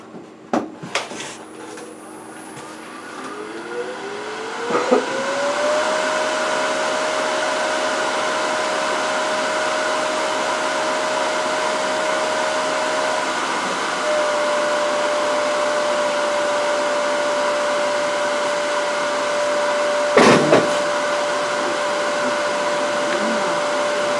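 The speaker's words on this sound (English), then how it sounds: "Our next step in this process needs to be roughing out the blank and then turning it to shape." A wood lathe spins up and runs steadily while turning a wood blank, a sustained motor whine with a few clunks near the start and a sharp knock later. The sound is close and fairly loud, with no talk.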